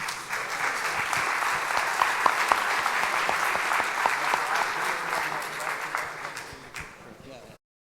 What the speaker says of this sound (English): maybe have another applause while you're standing up